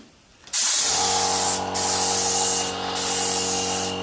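A second coat of spray paint goes onto a helmet: a sharp hiss of spray cuts in after a brief quiet and holds steady, broken by short pauses and restarts, over a constant low hum.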